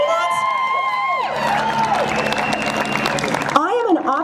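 A crowd at an anti-mask protest in El Cajon applauds and cheers, the clapping and whoops continuous, while a loud amplified voice keeps speaking over them.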